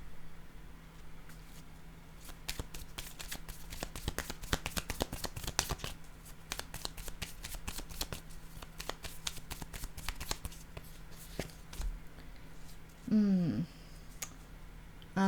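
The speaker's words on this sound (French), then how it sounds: "Je vais déposer une autre carte ici au centre." Tarot cards shuffle and slap in a rapid run of crisp, close clicks, followed by a softer pause and then a single card set down on the table.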